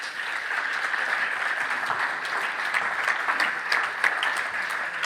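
Steady applause from a conference audience at PFC 2025 in Springfield, Missouri fills the room, dense and even for several seconds with no break.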